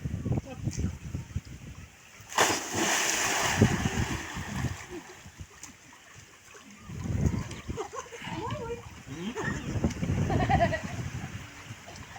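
Water splashes as a child dives in at a water park, with bursts of splashing and rushing water under children's excited voices and nearby chatter.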